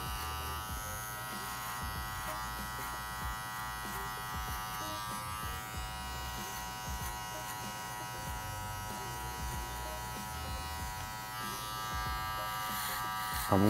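Electric hair clippers fitted with a number 1 guard cut hair from the bottom of a low fade, buzzing steadily and close throughout the clip with no speech over it.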